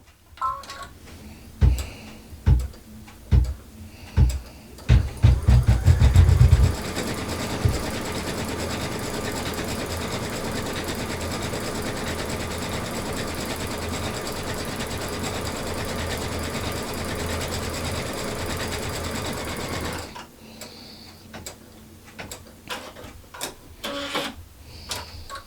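Sewing machine stitching a decorative border on a fabric basket: a few separate clacks first, then a long run of fast, steady mechanical stitching that stops abruptly, followed by scattered clicks and handling noises.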